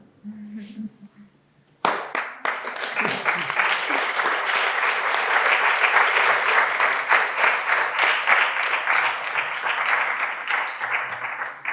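Sustained audience applause at a Spanish-language round-table panel, a dense wall of clapping that breaks out after a brief spoken moment and holds steady for about ten seconds.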